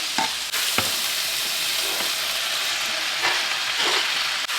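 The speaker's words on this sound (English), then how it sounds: "we're going to add the beef steak right into the middle" Beef steak set into the middle of a hot pan, giving a steady, loud broadband sizzle that continues throughout, with a few brief stirring scrapes and clicks layered on top.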